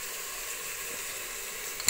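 Jackfruit pieces fry in a pan with a steady, close hiss of hot oil as salt is added, ending in a brief scrape of stirring.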